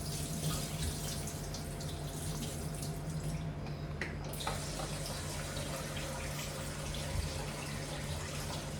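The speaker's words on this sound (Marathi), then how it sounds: "चला तर हे पाणी जे आहे इथे निथळून घेऊया." Water drains and trickles from a batch of two cups of freshly washed rice, a soft, continuous running and dripping sound close by, with a brief pause midway and no talking.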